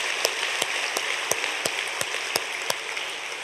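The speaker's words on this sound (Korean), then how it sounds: "하나님께 영광의 박수 한번 올려드리겠습니다." Church congregation applauding during an early-morning special prayer service, a steady dense wash of clapping with a few sharper claps standing out, moderately loud and without talk.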